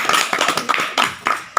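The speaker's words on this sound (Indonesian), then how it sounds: "Tepuk tangan dulu." A small audience clapping at a regional election campaign event in Sukabumi, a short run of distinct, loosely spaced claps with a sharp final one, close and clear.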